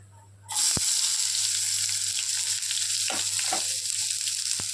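Chopped onions dropped into hot oil in a pan, a sudden loud sizzle that sets in after a brief quiet start and then holds as a steady frying hiss, with a few faint clinks of stirring.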